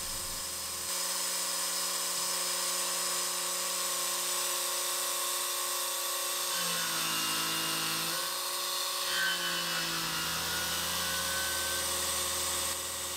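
CNC machine re-machining at a reduced feed rate with mist coolant, a steady high spindle whine layered with tonal hums, the pitch dipping and shifting midway as the cut load changes, with no talking.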